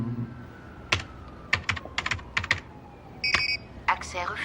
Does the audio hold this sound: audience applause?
no